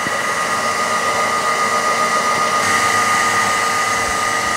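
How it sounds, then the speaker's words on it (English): CNC grinding machine grinding a part, a loud steady broadband whir with a constant high-pitched tone, unbroken and close with no talk. "let's grind this part."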